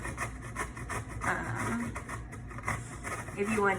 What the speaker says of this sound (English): I'm going to use the grater.